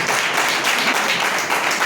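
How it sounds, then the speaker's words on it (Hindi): A church congregation at a Hindi Christian sermon claps loudly in unison for the Lord, a dense, continuous burst of applause that fills the room with no voices over it. "प्रभु के लिए जोरदार ताली बजाओ"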